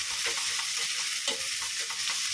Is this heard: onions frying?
yes